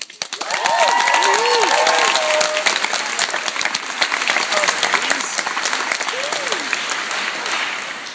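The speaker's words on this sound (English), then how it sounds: "they also deserve a round of applause" A college orientation opening ceremony audience applauds staff, a full crowd of clapping rising quickly and holding steady, with scattered cheers and whoops over it.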